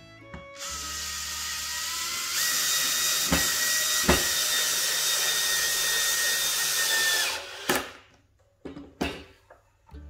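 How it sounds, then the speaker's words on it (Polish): Screws driven into wood with a cordless drill/driver set to screwdriving mode while building a mason bee house, a sustained high whirring motor run of several seconds followed by short clicking bursts as the screw seats, close and loud. "Pierwszy wkręt wkręcony."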